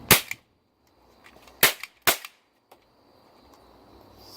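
A toy cap gun fires several sharp cracks: three loud shots at irregular intervals and one faint pop, each a brief broadband snap with a little tail, in a quiet room with nothing else sounding.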